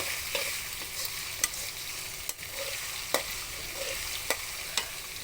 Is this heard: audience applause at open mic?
no